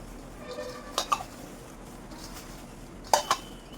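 Soya chunks being mixed with salt, chilli and spices in a bowl, quiet shuffling with a few sharp clinks of a spoon against the bowl, close by.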